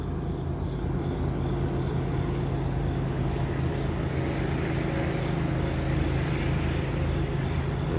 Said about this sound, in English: M372 strolling up the old main line. Sounds like it could have an EMD on it.